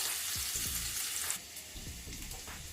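Onions frying in a pan, a steady close sizzle with broadband hiss, interrupted by a few low scraping stirs and a brief dip in the sizzle midway.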